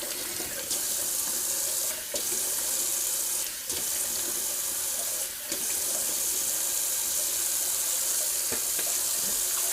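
Cold water runs steadily from a bathroom tap into a sink after a wet shave, a continuous close splashing hiss with a few brief breaks in the flow.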